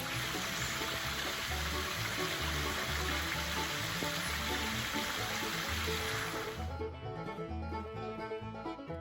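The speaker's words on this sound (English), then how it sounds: "This river is in Elkmont Campground, which is part of Smoky Mountains National Park." A river stream flows at Elkmont Campground in the Smoky Mountains, a steady, faint wash of water with background music over it.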